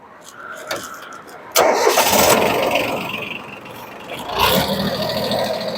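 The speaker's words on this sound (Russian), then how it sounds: "Запуск трактора." A Yanmar Ke3 mini tractor engine, started without glow plugs, gives a brief click, then catches abruptly and settles into a loud, close diesel idle, revving up again briefly near the end.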